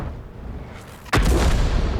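An artillery shell from French tier 9–10 artillery slams into a tank in World of Tanks, a sudden loud booming impact about halfway through that rolls on with a sustained rumble after a quieter background lead-in.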